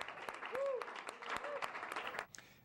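Crowd at a Little League baseball game in Mililani giving an ovation, scattered clapping and cheering heard faintly beneath a voice talking over it.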